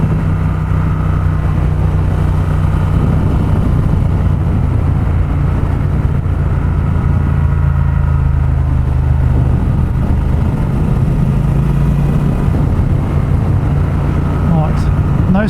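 Triumph Speed Twin motorcycle ridden in fourth gear, a steady loud engine drone with constant wind buffeting across the whole stretch, no talk standing out over it.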